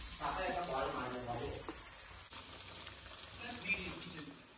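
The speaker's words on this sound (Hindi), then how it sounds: "तो तेल गरम हो चुका है और हम अभी पनीर डालेंगे।" Paneer pieces frying in hot oil for palak paneer, a steady soft sizzle running throughout at close range, with low background noise and no clear talking.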